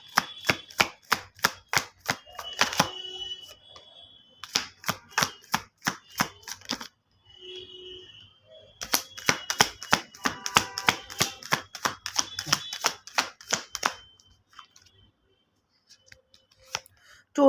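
Tarot cards are shuffled by hand in quick bursts of sharp, crisp riffling snaps, each run lasting a couple of seconds and separated by short pauses, close and dry against near silence.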